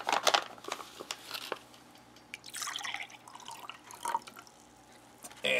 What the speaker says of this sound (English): let me go ahead and pour this drink with this bag real quick